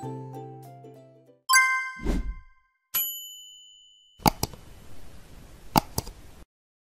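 Notification bell sound effects: a quick sequence of bright chimes and dings, with a plop and a metallic clink, followed by a couple of sharp ringing hits, all clean and alone with no voices.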